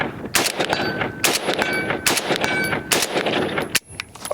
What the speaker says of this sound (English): shooting the SuperVel 55 grain certified select